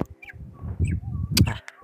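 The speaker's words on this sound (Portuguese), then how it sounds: "Passarinho é isso." A small bird chirps in short, bright calls near a rubble pile, with several brief tweets scattered over a low background rumble and a louder burst near the end.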